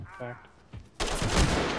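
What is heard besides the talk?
shotgun fire in the video game Ready or Not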